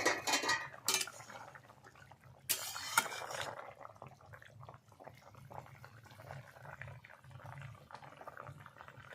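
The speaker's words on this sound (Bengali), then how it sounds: "টক হয়েছে কিনা ঢাকনা খুলে নিচ্ছি।" A metal lid clanks and is lifted from a pot of simmering sour snakehead fish curry made with dried mango and turnips, with two sharp clatters, then a soft, quiet bubbling and gentle kitchen rustle.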